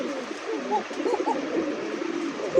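A male Andalusian pigeon coos in repeated soft, rolling phrases nearby, a low throaty warble that rises and falls over a few seconds with faint background noise.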